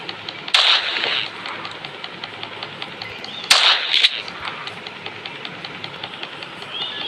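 Video game gunfire with unlimited ammunition: two sharp, loud shot bursts separated by a few seconds, followed by faint rapid ticking and a steady background hum.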